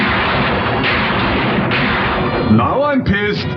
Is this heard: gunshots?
yes